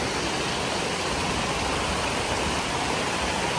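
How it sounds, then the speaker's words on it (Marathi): A waterfall near Valavali village in the mountains pours down in a steady, dense roar of falling water that holds constant throughout, with no voices. "पाणी सगळं खाली पडतं"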